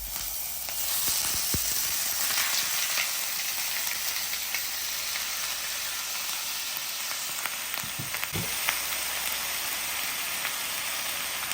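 Ground turkey sizzles and crackles in a pan over high heat, a steady close hiss with a few sharper pops, and no voices.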